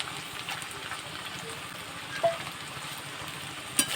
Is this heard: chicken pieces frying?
yes